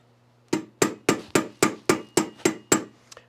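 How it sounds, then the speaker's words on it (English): Nine sharp metallic hammer blows in a steady rhythm, close and loud, ending with a couple of lighter taps. "I'm going to hammer on the end and then I'm going to roll back through"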